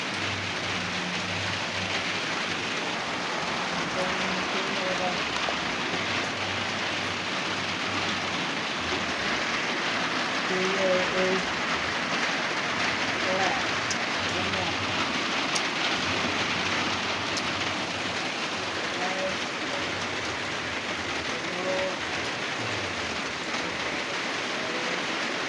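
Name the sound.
light rain falling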